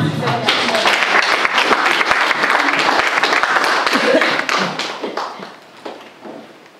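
A church congregation claps in loud, sustained applause at a worship service, a dense patter of hands with shouts mixed in, tapering off over the last couple of seconds.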